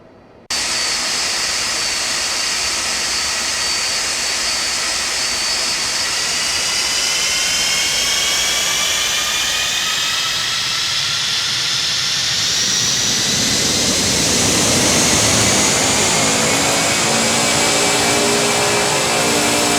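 Boeing 747-200 Classic jet engines spool up for the takeoff roll, a loud continuous roar and hiss that builds steadily over the whole stretch, with no voices.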